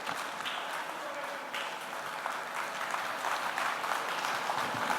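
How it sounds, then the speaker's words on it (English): Sustained applause from a standing audience at an inspirational associates session, dense steady clapping filling the room at even loudness throughout, with faint voices mixed underneath. "A standing applause"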